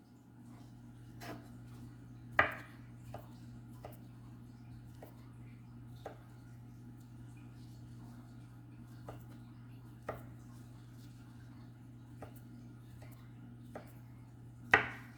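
Knife chopping on a cutting board while preparing corn dogs, a quiet room with sparse, irregular single chops and a few sharper louder hits, no talking.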